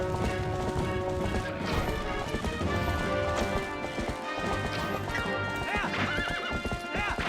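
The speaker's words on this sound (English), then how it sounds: "the horse is running in circles" A horse galloping in the video game Twilight Princess HD, rapid clip-clop hoofbeats running continuously and loud, with whinnies and crashing game effects mixed in.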